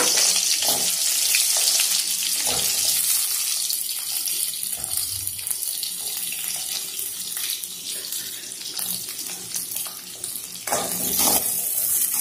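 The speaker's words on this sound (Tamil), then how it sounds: "சின்ன வெங்காயம் கொஞ்சமா போட்டு வணக்கலாம்." Small onions (shallots) sautéing in a pan for a homestyle fish curry, a steady close hiss and sizzle running throughout with occasional stirring clatters, no voices.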